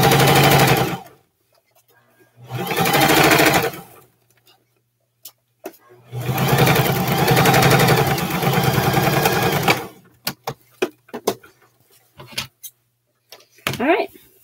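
A sewing machine stitching a seam on McCall's M4364 shorts runs in three loud, close bursts of rapid whirring, separated by pauses with small clicks and handling noises.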